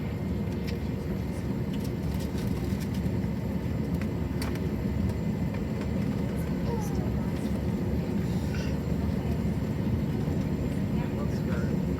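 Steady low engine and air-conditioning rumble fills an American Airlines Airbus A321 economy cabin before takeoff from San Francisco, a continuous broadband hum with faint clicks and rustles throughout, no distinct voices standing out.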